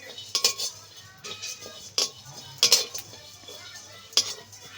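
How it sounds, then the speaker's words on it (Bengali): Cumin seeds dry-roasting in a pan over low heat, stirred with a metal spoon that scrapes and clinks against the pan in several separate bursts, close and clear, with a faint steady hum underneath. "জিরেটা বেশ ভালো করে ভাজতে হবে"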